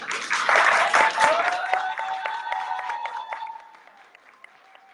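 Applause breaking out during a municipal council session in Saint-Josse, a dense burst of clapping that is loudest in the first seconds and then thins out into scattered claps, with faint voices underneath.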